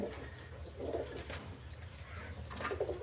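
A close pigeon gives low, burbling coos in a few separate bursts, mixed with brief fluttering wing flaps and light rustling against a quiet background.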